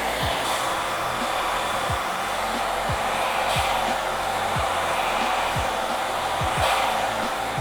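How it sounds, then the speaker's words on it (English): A blow dryer roars steadily at close range while a brush works through the hair to set a parting, giving faint periodic brushing strokes over the constant whir. "Now with my blow dryer and brush, I'm going to blow dry the parting that I actually want in place."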